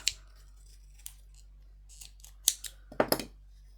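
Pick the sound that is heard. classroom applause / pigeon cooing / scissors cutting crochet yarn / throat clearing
scissors cutting crochet yarn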